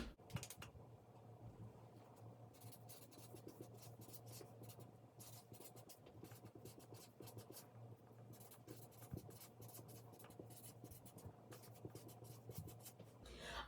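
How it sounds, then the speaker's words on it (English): A marker scratches and rubs across a paper chart in a classroom read-aloud setting, steady streaky strokes continuing close and fairly quiet for the whole stretch with no talking. "So I want to make sure that I write this down on my chart. Write with me."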